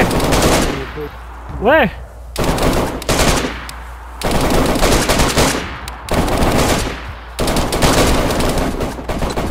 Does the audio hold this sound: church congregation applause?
no